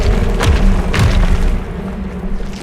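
A Bombarda spell explosion in the Hogwarts Legacy video game, a loud close booming blast with rumbling thuds that roll on and fade over a few seconds.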